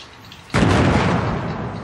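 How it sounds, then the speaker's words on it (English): Sticky grenade explosion in the Fortnite video game: a sudden loud blast about halfway through, followed by a sustained rumbling, crackling roar that stays loud to the end. "who's throwing sticky grenades?"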